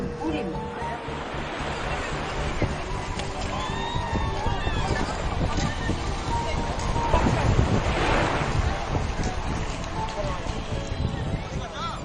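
East Sea surf washes onto a busy swimming beach with a steady windy rush of waves, heard under continuous narration.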